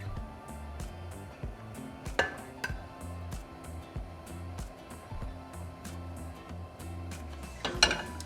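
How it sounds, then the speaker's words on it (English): A spoon clinks and scrapes against a pot while foam is skimmed from simmering beef broth for a Mexican beef, bean and hominy soup, with two louder knocks over a steady low bubbling hum, close and without talk. "we're going to remove any foam form on top of the broth"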